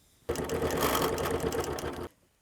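A sewing machine quilting rows with a quarter-inch foot runs in one steady, close whirring burst of rapid stitching for about two seconds, then stops, with no talking.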